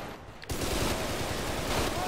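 Gunfire from the GTA RP video game erupts suddenly as a dense, loud burst of rapid shots that carries on steadily to the end after a brief quieter lead-in.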